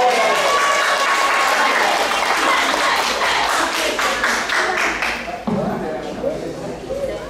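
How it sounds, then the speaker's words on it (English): Church congregation at a youth Black History Month program giving warm, loud applause that swells and then thins into scattered claps, with voices mixed in near the end. "Give another round of applause for Nama."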